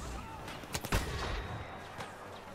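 Star Wars Battlefront blaster gunfire on Endor crackles in a few sharp, fairly faint shots with a short burst in the middle, set against quiet background game ambience.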